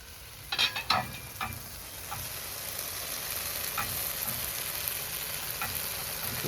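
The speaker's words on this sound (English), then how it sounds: "So all our aromatics and seasoning are being cooked well." Aromatics and seasoning sizzle steadily in a pot for Guyanese chicken curry, a constant frying hiss with a few louder crackles and spoon scrapes near the start, no voices.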